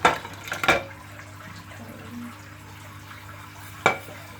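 Dishes are washed in a sink with washing-up liquid. A couple of sharp splashes and clinks stand out against quiet sloshing and a steady low hum, one burst at the start and another near the end.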